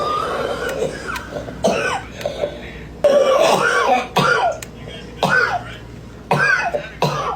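An elderly woman coughs repeatedly in short harsh bursts with throat clearing, close and loud, in irregular clusters separated by brief pauses.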